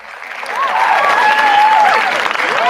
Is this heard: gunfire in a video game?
no